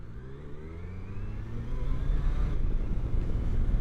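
Kawasaki Versys LT 1000 motorcycle engine idling with a steady low drone, then revving up louder about halfway through and holding at a stronger, rougher pitch.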